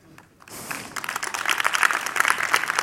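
A conference audience starts clapping during a live augmented-reality demo. A few scattered claps swell into steady, rising applause that grows denser toward the end.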